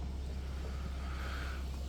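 A parked pickup truck idles with a steady, low engine hum at moderate distance by a fishing pier, with faint wind noise over it and no voices.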